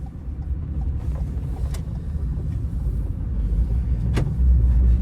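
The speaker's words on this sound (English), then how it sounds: "So there's a car coming." A car approaches on a road near a mountain running route, its low engine rumble growing steadily louder over several seconds with a few faint clicks, no voices.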